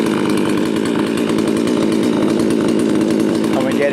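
A chainsaw idles steadily and loudly up close, its smoky running engine giving a continuous rough buzzing drone with a slight rise at the end, while someone talks over it.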